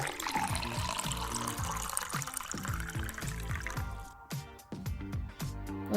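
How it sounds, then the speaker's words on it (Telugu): Water poured into a pot of rice for vegetable khichdi in a home kitchen, a steady close stream with rhythmic gurgling pulses that thin into separate splashes and drips toward the end. "దాంతో 3 గ్లాసులన్నర వాటర్ వేసుకుంటున్నానండి"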